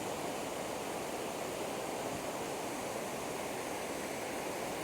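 Constant broadband rush of water, like a stream or small fall pouring steadily down from above, loud and even without pauses, in Sammanthurai near Batticaloa.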